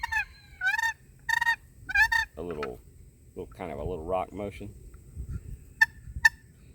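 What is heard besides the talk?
goose long call being played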